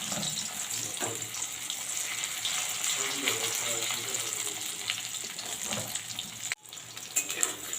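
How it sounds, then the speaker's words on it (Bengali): Okra coated in salt and turmeric fries in hot oil, a busy close crackle and spatter with a brief dip near the end; a voice speaks faintly beneath. "উল্টে পাল্টে আমি লাল লাল করে একটু ভেজে নেব"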